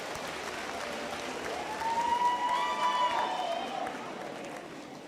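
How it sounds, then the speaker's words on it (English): An audience at an autumn graduation ceremony applauds, a moderate wash of clapping that swells midway and then eases, with some voices mixed in. "Can you give yourself a big round of applause?"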